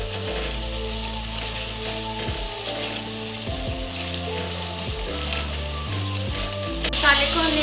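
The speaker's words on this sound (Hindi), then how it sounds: "अब हम तड़का भुनेंगे।" Turmeric, red chilli and other spices fry in hot oil for an aloo shimla mirch dish, a loud, continuous close sizzle with a faint stir, over quiet background music.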